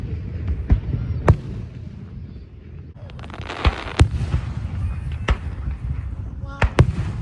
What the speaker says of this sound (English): But look how bright those fireworks are.